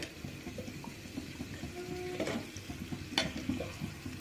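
Ingredients for egg poriyal sautéing in a pan, a soft, steady sizzle with a few scraping stirs of a spoon, close and fairly quiet.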